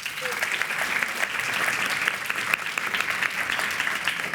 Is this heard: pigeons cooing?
no